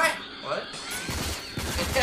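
Gunfire rings out in the video game Rage, a burst of sharp rapid shots with mechanical clatter, mixed with synthetic game effects under a player's excited voice.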